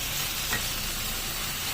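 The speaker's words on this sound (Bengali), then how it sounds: "এরপর আমি এর মধ্যে যে ইঁচড়টিকে রেখেছিলাম, ভেজে তুলে রেখেছিলাম, সেই ইঁচড়টি দিয়ে দেবো।" Fried jackfruit goes into a pan of sizzling, well-cooked masala for jackfruit curry, giving a steady, close frying hiss with one brief soft stir or drop in the middle.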